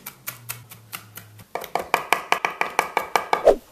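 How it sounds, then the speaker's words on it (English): Garlic struck once with a knife, then minced on a cutting board: a steady run of sharp, close knife chops in an even rhythm, getting louder partway through, with no talking. "Now we want to give our garlic a good whack and then carefully just mince it up real nice."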